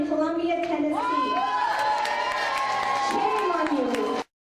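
Disruptive crowd outbursts at a public forum, loud overlapping shouting and cheering voices filling the room continuously, with mixed yelling and applause-like noise close to the listener.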